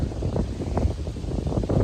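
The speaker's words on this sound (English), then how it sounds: "Oh, it's windy" Wind buffets the microphone in a steady rumbling roar, gusting unevenly throughout the short stretch outdoors.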